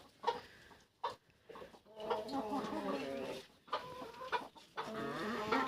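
Hens cluck and squawk nearby in busy, overlapping bursts, with a rooster among them and a faint voice in the background.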